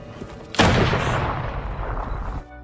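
A single gunshot in a film cracks out suddenly and loudly, followed by a booming echo that rolls on for nearly two seconds before cutting off.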